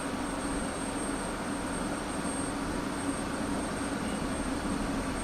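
A UH-60L helicopter's engine in DCS World keeps a steady turbine whine and low hum as it spools up, with no voices, holding an even, moderately quiet level throughout.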